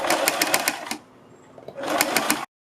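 A sewing machine stitches lace along the edge of a kurti neckline, running at speed in two close bursts with a quiet pause between them.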